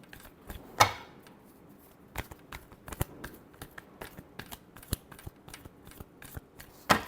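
Tarot cards are shuffled by hand in a quiet room, a series of soft, crisp riffling slaps and flutters, some louder bursts, irregularly spaced across the stretch.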